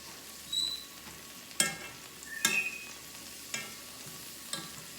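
Sweet potatoes cook in butter in a cast iron pan over low heat, giving a quiet, steady sizzle broken by a few sharp scrapes and clatters as the pieces are stirred.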